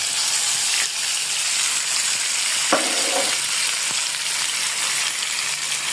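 Carrot paste fries in a spoonful of Aarong ghee in a pan, a close, continuous sizzle broken by a few sharp spoon taps and scrapes of stirring; nobody speaks.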